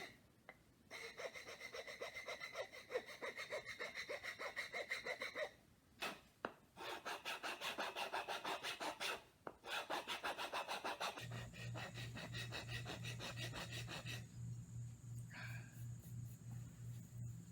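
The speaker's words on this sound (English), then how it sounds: "take this round file and carve grooves all along for gripping" A round file rasps back and forth in repeated strokes, carving grip grooves around the wooden handle of a homemade WWI trench club. The scraping is close and steady, with brief pauses, and a lower humming tone takes over near the end.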